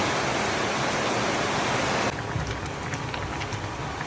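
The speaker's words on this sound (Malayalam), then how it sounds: "നല്ല മഴ." Heavy rain falls at night as a dense, steady hiss that fills the whole clip, loud and close, easing slightly to a lighter patter about halfway through.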